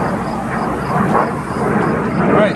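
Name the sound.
small airplanes flying over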